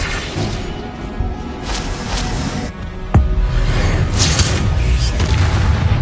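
Spell blasts in Hogwarts Legacy gameplay: a sharp crack leads into a heavy, sustained booming explosion that rumbles loudly for several seconds amid earlier softer impacts.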